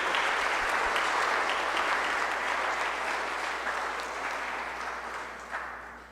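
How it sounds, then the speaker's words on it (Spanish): Congregation applauding during a Christmas Nativity mass in a church, a steady wash of many hands clapping that slowly fades toward the end, heard alone without speech. "Un aplauso a Dios, hermanos"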